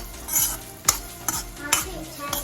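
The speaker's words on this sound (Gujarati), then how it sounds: "તેલમાં પણ શેકાઈ ગયો છે આપણો લોટ" Gram flour being stirred and roasted in hot oil for sambharia chillies, a spoon scraping the pan in steady strokes with several sharper clinks over a soft continuous sizzle, close and alone.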